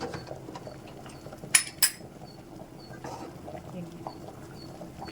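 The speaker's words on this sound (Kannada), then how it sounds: "ಒಗ್ಗರಣೆಗೆ ಬಾಣಲಿ ಇಡ್ತಾ ಇದ್ದೀವಿ." A metal frying pan clanks down onto a stovetop for tempering with two quick sharp knocks, followed by faint kitchen rustling in a quiet room.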